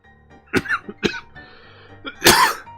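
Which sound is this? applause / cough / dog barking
cough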